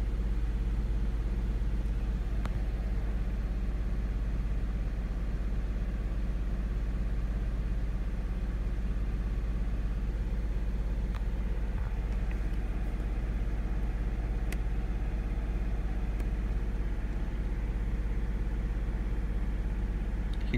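A Mazda Miata NB1 engine tuned with Speeduino idles very low in a garage, a steady deep hum and drone that holds evenly for about twenty seconds without revving.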